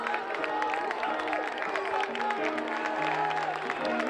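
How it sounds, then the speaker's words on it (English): Baseball crowd applauding a Titans pitcher as he leaves the mound in a Nashua North vs South game, scattered clapping and cheering over tonal background sounds in an open ballpark. "C.J. Barrett gets a nice round of applause as he comes off."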